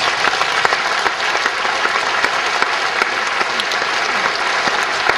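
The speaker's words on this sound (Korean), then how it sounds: "하나님께 영광의 박수를 드립니다" Church congregation applauding during a service celebrating a new church's founding: dense, steady clapping fills the space continuously, loud and close, with no talk on top.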